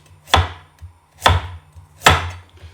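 Three sharp knife chops on a cutting board, spaced about a second apart, close and crisp, as ingredients are cut up for a homemade ramen meal for four.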